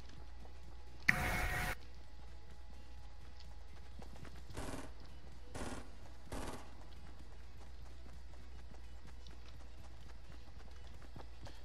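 Gunfire in the Fortnite video game: one sharp, loud shot followed by three quieter, evenly spaced bursts over a low steady background hum.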